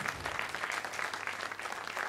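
A theatre audience at a cabaret and comedy memorial show claps in sustained, dense applause, many hands overlapping in an even patter from start to finish.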